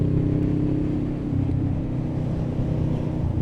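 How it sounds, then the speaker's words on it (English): A low, steady engine rumble drones throughout with a rough, throaty exhaust tone, though there is no clear rise in revs. "Old mate wanted to hear the bike rev."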